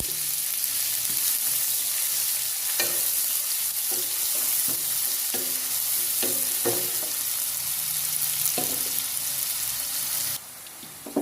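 Chopped onion sautéing in a pan, a dense continuous sizzle with periodic scraping stir strokes throughout, close and fairly loud, no voices.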